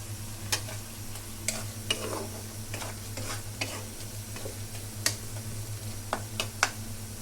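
Oil heats in a pan for frying fish, giving a soft, steady sizzle under a low hum, punctuated by scattered sharp ticks and clicks.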